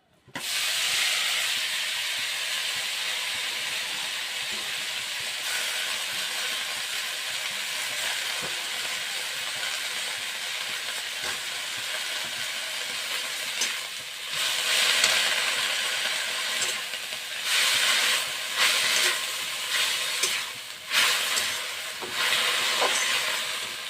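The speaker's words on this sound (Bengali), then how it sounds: "তেলটা গরম হয়ে গেছে। এখন আমি শালগম পাতাগুলো দিয়ে দিচ্ছি।" Turnip greens dropped into hot mustard oil make a loud, steady hissing sizzle that runs continuously, with crackling bursts later on and no talking.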